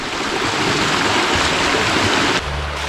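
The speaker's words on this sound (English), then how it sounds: "Got another little waterfall here." A steady, loud rush of a small waterfall in a canyon close by, continuous throughout, then dropping slightly in level near the end.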